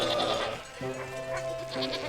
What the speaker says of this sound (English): Oh, sheep noise.